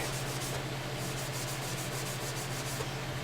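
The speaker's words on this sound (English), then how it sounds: "You just want to rub the oil off the frets." Cloth rubbing oil off guitar frets on a fretboard, a steady close-up scratchy rub with faint rhythmic strokes and a low hum underneath, no talking.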